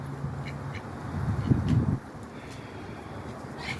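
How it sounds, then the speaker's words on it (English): Farm ducks quacking at close to moderate range, a burst of calls around the middle with lighter quacks before, over steady outdoor background and some wind noise. "Got some ducks."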